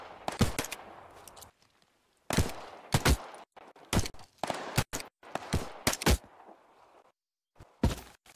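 Gunfire in The Cycle Frontier shooter game, sharp bursts of shots in irregular clusters with short silent gaps between volleys, fairly close but moderate in level.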